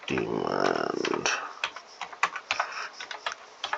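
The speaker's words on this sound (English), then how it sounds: "I'm not this slow at typing." Keystrokes on a computer keyboard clatter in an irregular, hesitant rhythm of close, separate clicks, following a short stretch of louder sound at the start.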